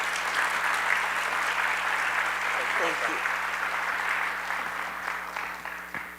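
A conference audience at a Plank Center summit gives a speaker a round of applause, clapping that begins full and loud and slowly fades, with a brief spoken thanks heard over it.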